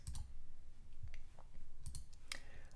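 A computer mouse clicks to pick an entry from a list on a store checkout page: several sharp, light clicks spaced apart, close and fairly quiet, with no talking.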